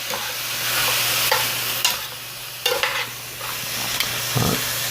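Broccoli and pork stir-fry tossed in a warm pan with the heat off, giving a soft steady sizzle broken by several distinct scraping, clattering tosses.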